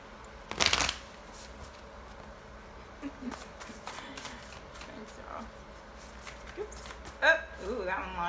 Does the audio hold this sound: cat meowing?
no